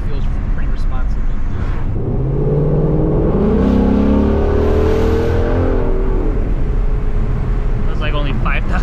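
A 2016 Ford Mustang GT running an E85 tune kicks down and accelerates hard, its engine note swelling and climbing in pitch for several seconds inside the cabin while people talk over it.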